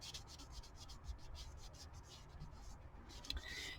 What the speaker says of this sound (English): Let me take this and see what happens if I give it a rub.